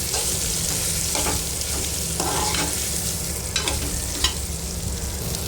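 Ridge gourds stir-fried in hot oil make a dense, continuous sizzle with a few scraping stirs of a spatula, and no voices.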